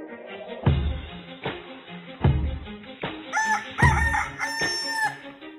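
A rooster crows loudly close by inside a chicken coop, with other chickens clucking and thumping footsteps or knocks in a rough rhythm; no speech.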